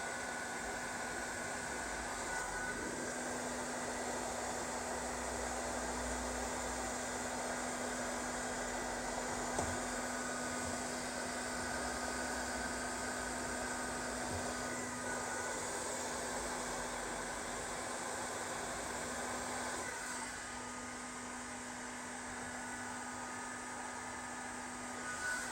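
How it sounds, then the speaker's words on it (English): Steady, loud rush of a heat gun blowing hot air onto a gear set bearing during bearing removal from a MaxiDrive 30% low range intermediate gear set, a constant broadband hiss with a faint hum, continuing alone throughout. "I will try and stay away from blowing heat into those."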